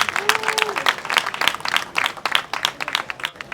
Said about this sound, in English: Please clap for him. Please clap for him.